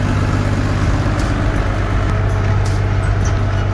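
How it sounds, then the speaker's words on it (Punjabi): A New Holland tractor idles close by on a farm in a French village, its engine holding a steady, loud, low rumble with an even hum and no change in pace. "ਟਰੈਕਟਰ ਆ ਨਿਊ ਹੋਲੈਂਡ"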